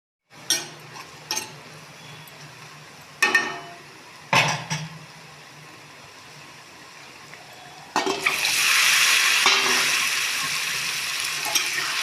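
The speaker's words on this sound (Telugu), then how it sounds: "గుడ్లు కూడా ఎర్రగా వేయించుకుంటేనే టేస్ట్ వచ్చి" Eggs fry in hot oil with garlic and spices in a pan, with a few sharp clatters of stirring followed by a loud, steady sizzle that swells and holds close by.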